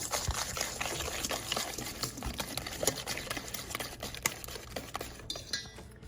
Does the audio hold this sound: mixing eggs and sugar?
yes